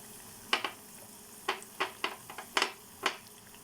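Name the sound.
mirchi bajji frying in hot oil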